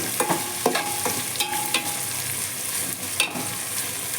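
Three thinly sliced onions, about a cup, cook in a pan with a steady background sizzle, broken by several sharp scraping and stirring knocks from a spoon against the pan.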